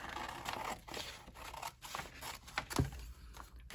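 Scissors cutting through a stamped paper label, a few soft crisp snips and paper rustles close by, faint and brief.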